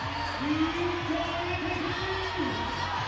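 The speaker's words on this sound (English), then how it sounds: "Kater Dohi getting a big cheer." A crowd at the 2019 IFSC Climbing World Championships men's boulder semi-final in Hachioji cheers and whoops for a climber in a sustained swell, with a commentator's voice over it.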